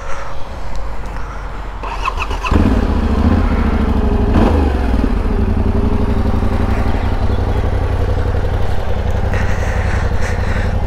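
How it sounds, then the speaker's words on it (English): Yamaha Tenere 700 with its CP2 twin engine and standard exhaust starts after a brief crank, then idles steadily with a loud, close, throbbing rumble and slight mechanical clatter. "It's only got the standard exhaust, but I'll let you have a little listen to it."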